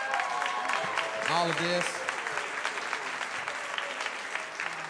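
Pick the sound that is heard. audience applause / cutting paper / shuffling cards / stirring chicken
audience applause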